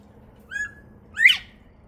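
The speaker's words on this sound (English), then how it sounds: "Sounds like the birds would like to have some." Two bird calls, a short thin whistle followed by a louder harsh squawk, close by against a quiet background.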